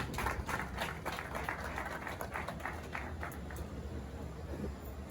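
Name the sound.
applause at a press conference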